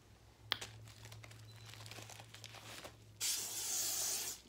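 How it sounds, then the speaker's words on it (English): Lysol disinfectant aerosol sprayed over a pile of mail: a loud, steady hiss that starts abruptly and continues for over a second, following a stretch of faint paper crinkling and rustling. "Let me spray it all down"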